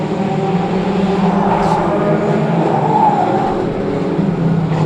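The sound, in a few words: micro banger race cars racing at Cowdenbeath racewall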